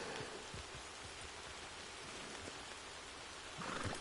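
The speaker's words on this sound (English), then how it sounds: "Oh man, this is some good rain." Steady rain falling in Red Dead Redemption 2, a constant even hiss of drops with scattered soft patters, sustained throughout and swelling slightly at the end.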